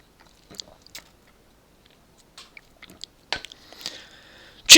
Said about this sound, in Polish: Uwaga, przerwa na łyk kawy.